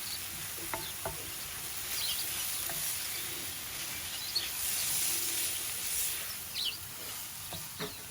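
Tomato cooks in a pan with a paste of pounded chili, garlic and coriander stem, giving a quiet, steady sizzle with faint crackles and the occasional soft knock of a utensil.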